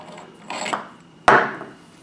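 A gas cup is unscrewed from a Miller Roughneck MIG welding gun, giving two short scraping, rubbing twists, the second sharper and louder, heard close up with no talking.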